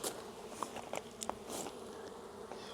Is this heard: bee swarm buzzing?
yes